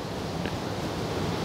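Wind moves through a wooded creek-side hunting area, a soft steady rush with faint rustling and light microphone buffeting, quiet and uninterrupted.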